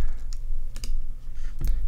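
Computer keyboard keys click in a short burst of separate taps, ending with a firmer Enter key press, close and fairly crisp against a quiet background.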